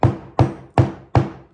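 A smooth-faced convex hammer taps the edges of a leather cowboy wallet four times in an even rhythm, each strike sharp and close with a short decaying ring.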